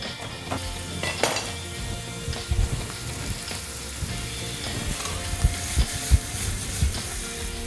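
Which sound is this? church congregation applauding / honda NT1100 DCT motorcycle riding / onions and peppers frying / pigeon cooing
onions and peppers frying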